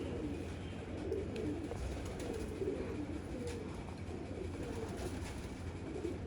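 Teddy pigeons in Lahore coo softly and low, their faint murmuring repeating under a quiet outdoor background with no talking.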